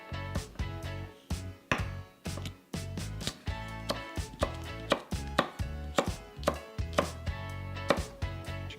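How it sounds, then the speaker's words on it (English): A knife chops a halved jalapeño into julienne strips on a cutting board, striking in a quick, regular run of close, crisp thuds for the whole stretch, with no voices. "for our jalapeno, we just want to cut it in half and then julienne them"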